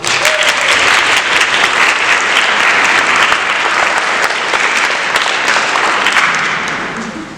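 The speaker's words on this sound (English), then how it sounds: "so a round of applause to all of you." Sustained audience applause for student participants at a poetry recitation semifinal, a full steady round of many hands that eases off slightly at the end.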